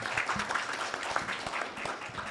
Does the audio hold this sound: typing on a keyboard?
no